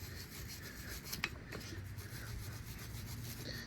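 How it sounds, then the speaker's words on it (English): A wire brush scrubs corrosion off a brake caliper bracket on a Ram Laramie pickup, giving a continuous quiet scratchy rasp with a few sharper scrapes and no talk. "Take a little wire brush, clean out any corrosion that you'll see"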